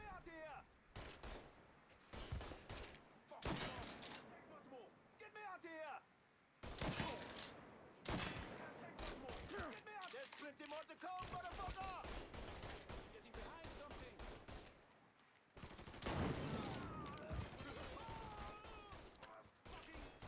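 Gunfire from blind firing in the video game Mafia 3, with dense bursts of rapid shots in repeated volleys separated by brief pauses, loud and close throughout.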